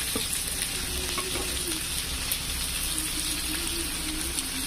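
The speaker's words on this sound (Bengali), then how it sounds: "পেঁয়াজটা আমি ভেজে নেব।" Chopped onions sizzle steadily in hot oil in a pan with bay leaf and whole cumin, a continuous close crackling fry with faint stirring, no voices over it.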